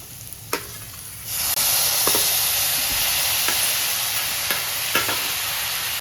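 Tomatoes for chutney dropped into hot oil with green chilli and chilli powder, a loud sizzle that swells suddenly and holds as a dense hiss, with a few faint stirring knocks and no voices.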